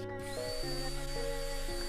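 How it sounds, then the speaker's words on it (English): A power drill runs steadily, with a buzzing, whirring motor tone that shifts pitch a few times over its short span. It is fairly faint and has no speech over it. "The drill turns on when you sub!"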